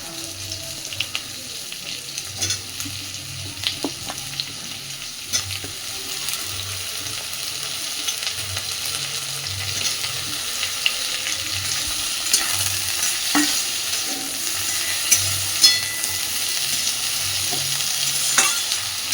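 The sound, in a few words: brinjal stirred and frying in pan with bitter gourd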